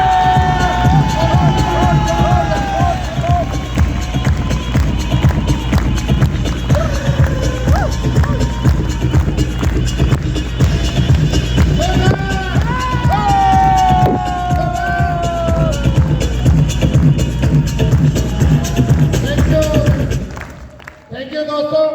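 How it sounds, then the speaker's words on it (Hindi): An audience at a diamond club event rises from its chairs to applaud and cheer, a loud sustained mass of clapping and shouts with voices mixed in, before it cuts off abruptly near the end. "मैं चाहता हूँ अपनी चेयर से खड़े होकर एक जोरदार तालियां हो"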